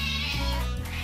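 A cat meows close up, one drawn-out call that bends in pitch and fades at the end, with nothing else heard.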